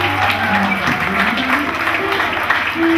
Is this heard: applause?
yes